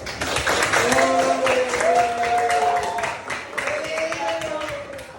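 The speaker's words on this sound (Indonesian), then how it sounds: "Masya Allah, tepuk tangan itu" Classroom applause during a micro-teaching lesson: a scattered patter of hands lasting a few seconds while a voice talks over it.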